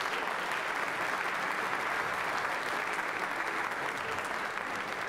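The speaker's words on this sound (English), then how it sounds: "Can we have one more round of applause for our 7th grade?" Dense, steady applause from a school audience at a middle school orchestra concert, praising the 7th grade players; a continuous even roar of many hands clapping, moderately distant, sustained for five seconds with no talk.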